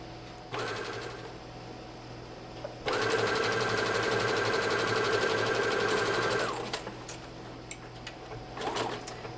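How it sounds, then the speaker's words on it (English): A sewing machine runs a long straight stitch down a pants inseam at a 5/8 inch seam allowance, starting in a short burst and then running steadily for several seconds before stopping, close and alone. "I'm going to straight stitch at 5/8 inch all the way down this inseam"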